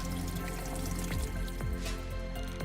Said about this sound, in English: so he gets a refill of water